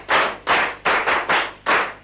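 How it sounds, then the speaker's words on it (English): An audience of students clapping for a classmate in unison, six sharp, loud, evenly spaced claps close by with no talking. "Clap for him."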